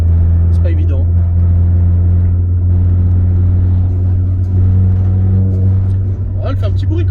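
A car engine drones low and steady while driving, a loud continuous rumble with brief voices breaking in over it.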